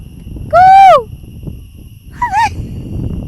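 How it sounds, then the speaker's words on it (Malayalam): A vehicle horn honks twice near a forest in Palakkad, Kerala, with a wavering tone, a longer blast followed by a shorter one, over quiet background noise. "അത് ഹോൺ അടിക്കണേ വണ്ടി"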